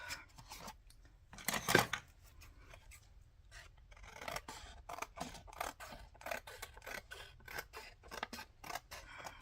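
Scissors snip paper for a retro journal, giving a run of crisp, close cuts in an irregular rhythm with quiet pauses and one sharper, louder snip near the start.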